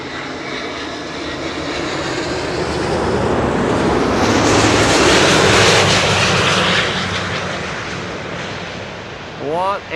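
Boeing 747 jet engines roaring as the airliner lands on Schiphol's Kaagbaan 06 runway, a loud broad roar swelling to a peak and fading away, with a voice heard near the end.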